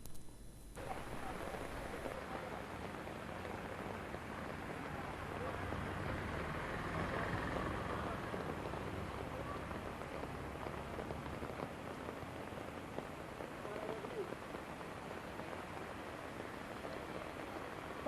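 Rain pours steadily over Ahmedabad, a dense, even hiss of drops on surfaces that stays constant for the whole stretch, with no clear voices above it.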